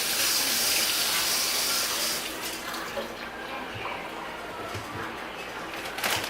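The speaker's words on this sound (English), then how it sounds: "Give me 1 second to rinse my hands." Hands being rinsed under a running kitchen tap while baking mac and cheese, a soft steady rush of water that eases slightly partway through, with faint clatter near the end.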